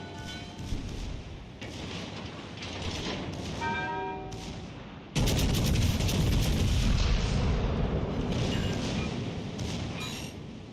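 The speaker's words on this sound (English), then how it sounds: "Bismarck is shooting the belt of a Russian battleship instead of shooting superstructure." Heavy battleship guns fire in a World of Warships Legends naval battle, with deep booming blasts and a massive roaring salvo halfway through that rumbles on over continuous battle noise and ship effects.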